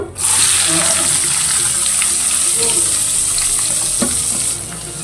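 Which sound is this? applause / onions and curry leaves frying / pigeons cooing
onions and curry leaves frying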